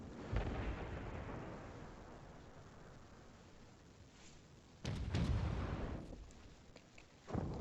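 Heavy naval guns boom in World of Warships as Bismarck battleships fire on a Donskoy cruiser, deep rumbling blasts with a continuous low roar, two louder salvos striking near the end.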